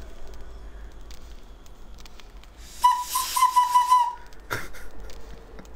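A single whistle from the video game Broken Sword 2.5 gives a short, wavering trill lasting about a second, sounding mid-clip over faint game ambience with light taps and rustles around it.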